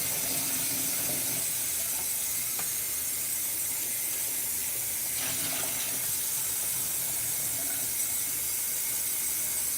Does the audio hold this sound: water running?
yes